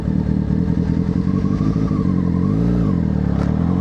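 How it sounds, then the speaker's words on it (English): A motorcycle engine chugs loudly and steadily at close range as the clutch is let out and throttle opened, its pitch wavering then rising briefly as the bike pulls away. "I'm going to let the clutch out and pull back into the throttle"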